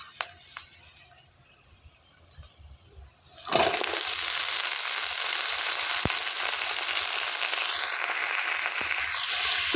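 After a few quiet seconds, cut cauliflower and potato drop into a pan of hot oil with browned onion and set off a sudden loud sizzle that keeps crackling steadily.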